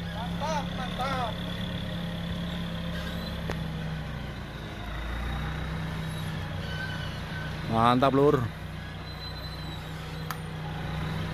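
A Scania-engined tractor hauling timber along a rough road, heard as a steady low engine drone running throughout, with voices talking over it and a brief louder rumble near the end.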